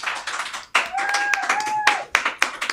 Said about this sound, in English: A nice warm round of applause for